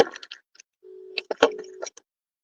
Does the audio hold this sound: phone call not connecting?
yes